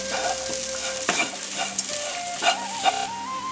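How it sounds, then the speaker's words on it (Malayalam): Leafy greens thoran with black pepper is stirred in a pan, with a few soft scrapes and clicks over a steady frying hiss and a faint tonal hum in the background; close, with no speech. "നമ്മൾ കുരുമുളകും കൂടെ ചേർത്ത് നന്നായിട്ടൊന്ന് ഇളക്കി ഇത് നമുക്ക് ഗ്യാസ് ഓഫ് ചെയ്ത് മാറ്റാം"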